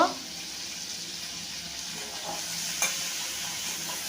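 Onions with salt frying in a pan for chicken kosa, giving a steady close hissing sizzle throughout, with the scrape of a spoon stirring them and a brief clink partway through, no talking.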